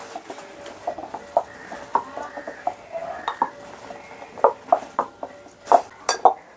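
Soft bhatura dough is kneaded in a bowl with water added little by little, producing a series of close, irregular knocks and clinks against the bowl over quiet, soft handling sounds.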